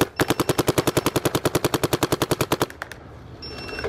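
Dye M2 MOS Air paintball gun firing a rapid, steady burst of about twenty-five sharp pops, loud and close, stopping abruptly and leaving cold outdoor ambience.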